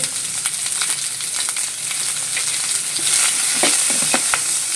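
Finely chopped onion sautés in oil with curry leaves for a moringa leaf thoran. A steady, bright sizzle is heard up close, with a few soft scrapes of stirring toward the end and no talking.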